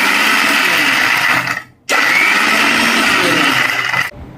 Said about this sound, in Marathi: आता या मिक्सर आपण उघड झाप असा करायचा.